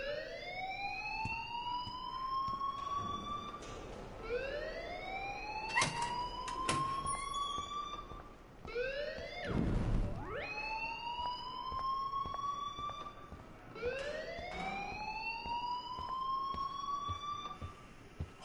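An electronic alarm in the video game Life is Strange wails in repeated rising sweeps, a siren-like tone cycling every few seconds, steady and moderately loud, with a brief low rumble midway.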